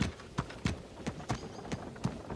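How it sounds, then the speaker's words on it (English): A horse pulling a carriage along a road, its hooves clip-clopping in a steady, even rhythm, fairly quiet and slightly distant, with no talking. "the horse began pacing forward"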